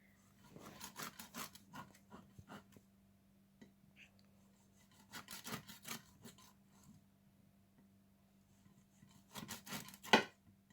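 Knife cutting through a whole hilsa fish being scored for masala, heard as clusters of short scraping, slicing strokes in bursts separated by quiet pauses, with a final sharper cut near the end.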